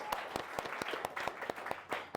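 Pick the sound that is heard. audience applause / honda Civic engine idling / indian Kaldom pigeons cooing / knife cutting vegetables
audience applause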